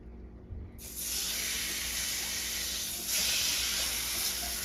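Loud, steady sizzling of lamb frying in hot butter starts abruptly and keeps going, swelling slightly toward the end, with no talking over it.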